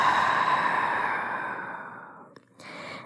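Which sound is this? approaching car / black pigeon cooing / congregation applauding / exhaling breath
exhaling breath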